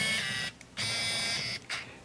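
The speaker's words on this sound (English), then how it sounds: "Let's extend the lens here and retract that for the zoom range." Zoom lens motor of an Olympus Infinity Zoom 70 35mm film camera whirring close up as the lens extends and retracts, two steady buzzing runs separated by short pauses, with no talk.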